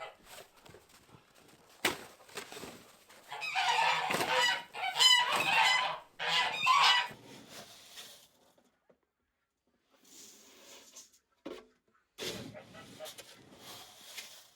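Geese on a farm honk loudly together in a dense, clamorous burst that lasts a few seconds, followed by quieter scattered honks, footsteps and brief talk.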